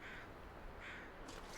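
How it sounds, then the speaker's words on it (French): Crows caw faintly in the distance in the survival video game The Long Dark, a few separate calls over a steady windy ambience. "J'entends des corbeaux"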